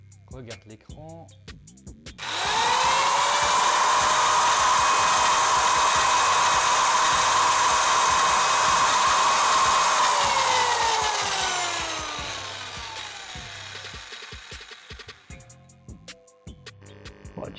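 An electric saw running from a battery inverter power station's 220 V outlet spins up abruptly, runs with a steady loud whine for about eight seconds, then winds down; brief speech before and after.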